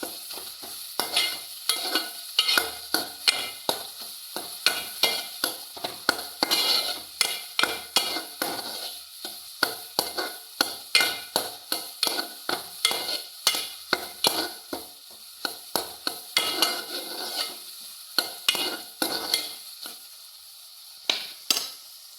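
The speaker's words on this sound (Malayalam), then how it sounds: "ഇഞ്ചി മൂപ്പിച്ച് തന്നെ നമ്മൾ മൂപ്പിച്ചെടുക്കുന്നത്" Ginger fries in a pan while a spoon stirs it, giving repeated sharp scraping knocks in an irregular rhythm over a soft sizzle, close and alone without voices.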